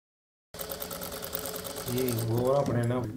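A sewing machine stitches blouse fabric close by. It starts after a short silence as a rapid mechanical chatter, then grows fuller and louder with a humming motor tone.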